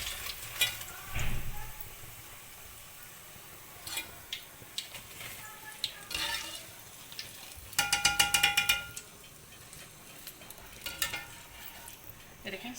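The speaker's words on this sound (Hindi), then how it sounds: "अब इनको निकालेंगे हम और कड़ी वाले देगचे में ट्रांसफ़र कर देंगे।" Fried pakoras are lifted out of hot oil and transferred into a pot of Punjabi-style kadhi, giving soft sizzling, scraping and stirring sounds with occasional metallic clinks and a brief clattering burst, all fairly quiet.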